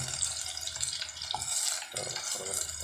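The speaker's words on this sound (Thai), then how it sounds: "ผัดจนหอม" Thai pad kaprao being stir-fried in a pan, soft sizzling with scraping and stirring strokes, faint and close, with a brief low voice murmuring underneath.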